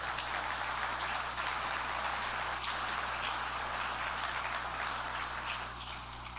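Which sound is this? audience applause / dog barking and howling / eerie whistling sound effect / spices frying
audience applause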